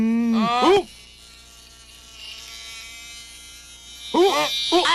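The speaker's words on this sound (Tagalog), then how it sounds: "Isang bubuyog!" A steady insect-like buzz of a bee drones through the middle of the clip, with an animated cartoon voice before and after it.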